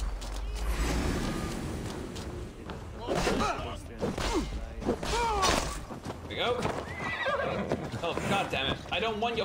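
Horse neighing and whinnying in Assassin's Creed Valhalla, several loud whinnies over clip-clopping hooves and game thuds, with someone talking throughout.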